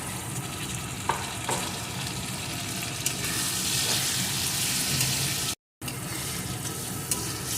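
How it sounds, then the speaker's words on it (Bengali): Slit green chillies and chopped tomato fry with small prawns in a pan, giving a loud, steady sizzle with stirring and occasional clinks. It breaks off briefly before resuming. "একটু ভেজে নিয়ে এর ভিতরে দিয়ে দেবো কয়েকটা চেরা কাঁচা লঙ্কা আর একটা টমেটো কুচি"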